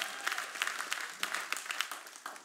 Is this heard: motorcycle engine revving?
no